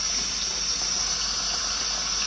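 Hot water poured into a pot for peanut soup, heard as a continuous, even hiss and rush of liquid with no pauses.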